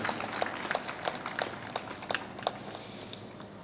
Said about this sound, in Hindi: ताली बजाकर इन सभी पवित्र आत्माओं का अभिनंदन करें।